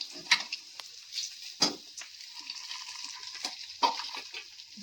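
Cabbage pakoras fry in a pan of hot oil with a steady soft sizzle, broken by a few sharp clatters and scrapes as pieces are lifted out, close by with no talking.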